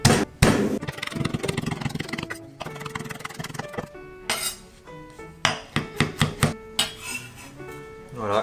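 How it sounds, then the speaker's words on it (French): Garlic being coarsely crushed for a ratatouille: a scrape and clatter of utensils, then a run of sharp, evenly spaced knocks on a board, close and loud, with short pauses between. "Il me reste plus qu'à concasser l'ail grossièrement."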